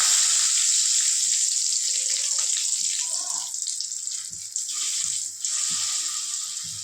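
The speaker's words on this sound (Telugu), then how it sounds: "మనం ఆల్రెడీ మిక్సీలో వేసుకున్నటువంటి ఈ యొక్క మిశ్రమాన్ని ఈ ఆయిల్లో వేస్తున్నాం" Ground gongura chutney paste is tipped into hot oil already holding asafoetida and curry leaves, setting off a loud, bright hiss that slowly eases, with a few faint knocks from the pan.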